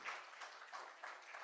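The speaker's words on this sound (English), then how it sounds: "You can give her a big round of applause here." An audience at a social impact summit and awards event gives a short burst of applause, heard faint and somewhat distant.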